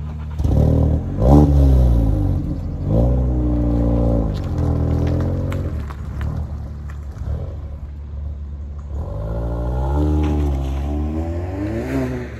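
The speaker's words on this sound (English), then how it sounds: "I think it's time we take it for a drive," A Ford Focus ST MK4 pulls away and accelerates hard, its engine revving up through repeated rising sweeps with a deep rumble and a brief lull between, loud and close.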